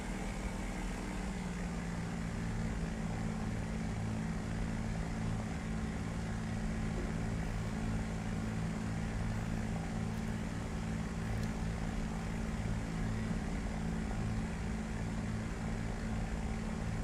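Aircraft engine droning steadily in a flight simulator game, a continuous low propeller-like hum with even pulsing, moderate and unbroken for the whole stretch.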